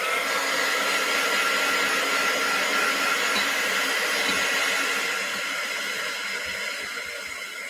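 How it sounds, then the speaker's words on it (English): A hair dryer blows on an art journal page in a craft session, a loud continuous whirring hiss held steady, easing slightly softer toward the end with no talk. "I think I'm going to be tempted to pull out my dryer"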